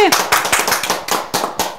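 A small group of people claps in a fairly loose, uneven rhythm, close and clear, with about eight distinct bursts over a couple of seconds.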